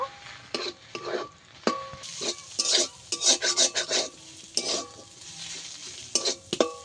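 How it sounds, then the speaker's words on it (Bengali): Egg crumbled and mixed with spices in a hot pan: repeated rasping spatula scrapes in irregular bursts over a light sizzle, close and fairly loud. "ডিমটা মশলার সঙ্গে ভালো করে মিশিয়ে দেব। একটু ঝুড়ো ঝুড়ো করে দেব।"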